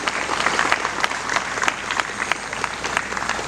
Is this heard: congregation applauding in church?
yes